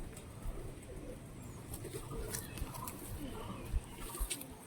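A lively Madras long-distance flying pigeon gives soft, low coos amid faint rustling, fairly close and without talk over it.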